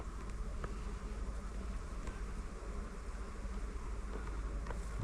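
Swarm of honeybees buzzing around hives at an apiary, a dense continuous hum close by and steady in loudness, with no talking.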